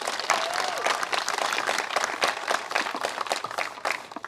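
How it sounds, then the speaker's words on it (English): Audience applause at a culinary academy awards ceremony, steady dense clapping from a crowd that holds for several seconds without pause. "Give him a round of applause for him."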